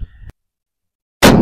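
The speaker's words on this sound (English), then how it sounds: "It does feel softer shooting, even though it's registering 2650 average for these two shots." A .308 rifle firing a handloaded 155-grain bullet on a 100-yard range: one sharp, loud, close report that breaks abruptly out of silence, after a brief low rumble at the start.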